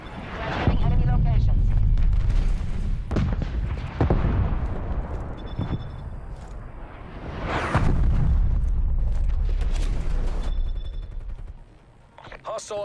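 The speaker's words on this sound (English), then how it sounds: "Net call. Incoming artillery." Incoming artillery barrage in Call of Duty Cold War hardcore team deathmatch, several heavy booming explosions and rumbling blasts arriving in bursts, loud and close, mixed with in-game announcer chatter and alerts.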